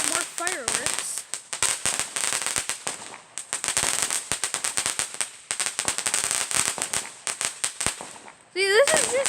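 Neighbors' Fourth of July fireworks and firecrackers popping in rapid, irregular bursts of sharp cracks, fairly distant, with a couple of whistling rockets rising at the start and end of the stretch.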